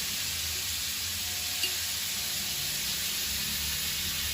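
Onions fry in oil in a pot for pulao, giving a steady, bright, close sizzle and hiss that holds evenly throughout with only a faint tap midway.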